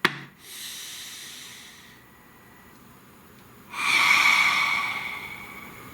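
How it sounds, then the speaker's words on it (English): Slow, deep breathing during a guided meditation: a soft, airy inhale, a quiet pause, then a louder, longer breath out, close and alone with no talking. "Please take a nice deep breath"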